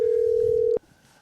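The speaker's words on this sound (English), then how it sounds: "Phone's ringing." An outgoing telephone call rings on the line, a single steady ringback tone lasting most of a second before cutting off abruptly into quiet line noise.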